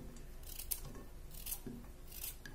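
A homemade wire tool thinly slicing vegetables, giving a series of crisp, rhythmic snipping cuts, fairly faint and close, with no voices.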